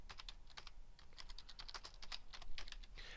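Fingers type on a computer keyboard, a quiet, close run of quick irregular key clicks in bursts with no talking.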